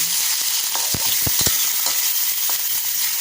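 Chicken goes into a hot pan with garlic for pancit bato, giving a steady close sizzle broken by a few sharp utensil clicks against the pan.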